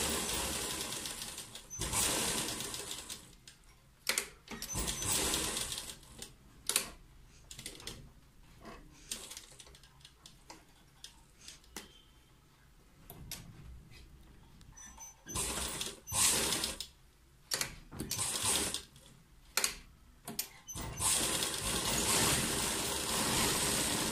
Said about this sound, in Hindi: एक किनारे से सिलना शुरू करें।